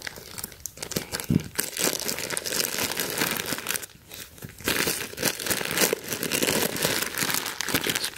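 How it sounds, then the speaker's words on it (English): Plastic mailer packaging from a shipped clothing order, holding PacSun track jackets, is crinkled and torn open in continuous close, loud rustling and crunching bursts with brief pauses and no talking. "let's go ahead and get this unwrapped"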